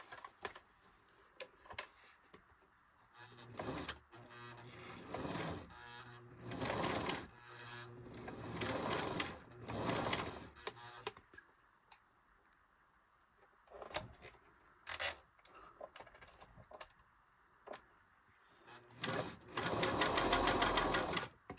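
A Singer 533 sewing machine runs in several bursts of rapid mechanical stitching, starting and stopping repeatedly at close range, with a longer louder run near the end and quieter handling gaps between.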